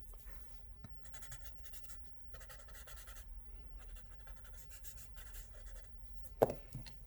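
Pencil shading tool scratching across paper while sketching, a soft continuous dry rasp in short strokes with brief pauses, faint and close, ending in a single sharper knock.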